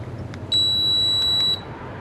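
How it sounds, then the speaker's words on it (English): A remote RV lock handle on a 2020 Grand Design 2670MK gives one long electronic beep lasting about a second. The tone is steady and clear, following a couple of short faint clicks. "It's a long beep"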